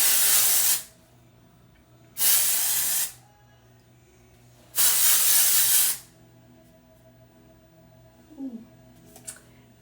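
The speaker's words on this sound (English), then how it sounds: "I'm going to spray a little texture spray in it." Three separate bursts of aerosol hair texture spray hiss out, each lasting about a second, with quiet pauses between them and faint handling noises afterward.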